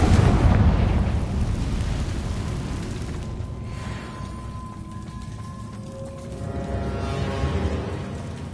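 A Confringo fire spell explodes in Hogwarts Legacy on PS5, opening with a loud burst that rumbles and crackles down into a long, hissing debris roar. A faint tonal ring drifts through the tail.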